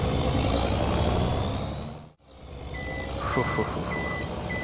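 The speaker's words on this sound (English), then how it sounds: "everything about this lorry is very, very loud" A large lorry engine in Farming Simulator 22 rumbles loudly and steadily, then regular high reversing beeps start up over the drone; no one speaks.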